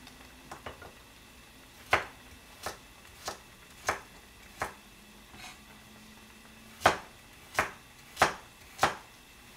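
A knife chops carrot into half-moon slices on a cutting board in a home kitchen, a dozen crisp, separate knocks at an uneven pace, a few quick taps early and then louder, well-spaced strikes.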